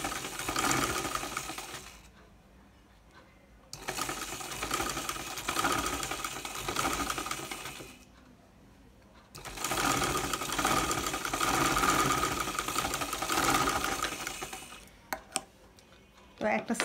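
A sewing machine stitches the side seam of a silk kameez in several loud, steady runs of mechanical whirring, separated by brief quiet pauses, with a short clatter of handling near the end.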